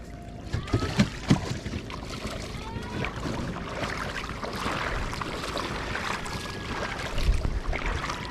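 A boat engine drones steadily on open water, with wind and splashing in the background and no talking.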